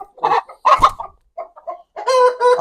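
A shooter-breed hen clucks close by in short, choppy bursts with brief gaps, ending in a drawn-out squawking call.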